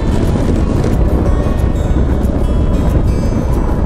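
A Honda CB1000SF motorcycle travels along a national road. Loud engine drone and heavy wind rush fill the recording continuously, with no pauses and no speech.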